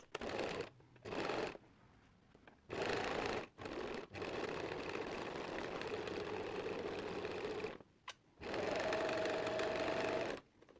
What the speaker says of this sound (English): With the front pocket bag facing up, sew around the pocket bag curve